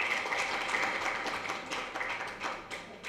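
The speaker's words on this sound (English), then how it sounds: "With a huge round of applause, let us welcome our chief guest, Professor N. Lokendra Singh" Audience applause welcoming the chief guest at a university physics department celebration, a steady patter of many hands clapping at moderate distance, continuous for about three seconds.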